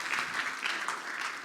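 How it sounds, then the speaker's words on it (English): An audience at a 2019 supply chain conference applauds a speaker in a steady, dense wash of clapping at moderate volume that continues without a break. "Big round of applause, please, for Awad al-Shakiri."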